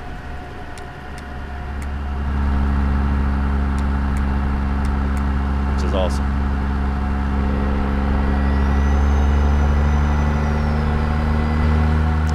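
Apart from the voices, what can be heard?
truck retarder and brake sounds from video game American Truck Simulator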